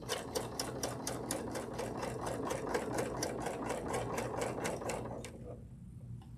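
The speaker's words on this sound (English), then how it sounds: "we're testing out my sewing skills with the serger too" A serger sewing machine stitches fabric in a fast, even rattle of rapid needle strokes, close and steady for about five seconds before stopping abruptly into quiet.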